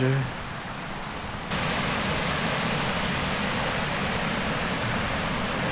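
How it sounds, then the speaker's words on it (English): A man-made waterfall in a park gives a steady, broad rush of falling water, close and continuous for several seconds after a brief quieter moment at the start. "Brilliant waterfalls."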